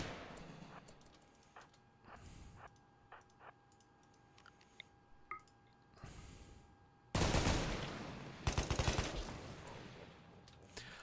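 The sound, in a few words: gunfire in the video game Rimworld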